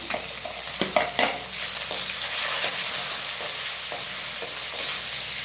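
Onions sautéing in a pan for tomato rice, with a steady broad sizzle and several sharp stirring clicks and scrapes near the start, continuing close and even throughout without talk.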